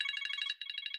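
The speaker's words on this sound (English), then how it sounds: "that's the phone, lads" A telephone rings in a rapid electronic trill, two bursts separated by a short gap, thin and quiet with no voices over it.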